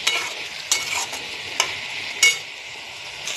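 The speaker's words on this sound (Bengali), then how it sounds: "আর একটু কষাবো, কষানোই মেন" Spoon scrapes and stirs soybean curry with green banana and potato as it sautés in a hot pan, four sharp strokes over a steady close sizzle, no voices.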